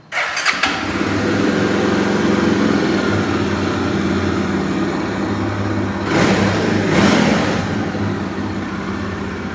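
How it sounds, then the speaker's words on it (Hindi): A Jawa motorcycle, offered second hand, fires up and settles into a steady, loud idle close by, then takes two sharp revs that swell and fade before it drops back to idling. "इसको एक बार जावा को स्टार्ट करके दिखाइए कोई सी"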